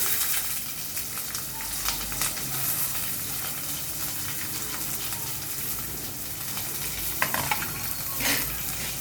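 Chopped onion and green chili fry in a pan with a steady, close sizzle and the occasional scrape of a spoon stirring, with no talking.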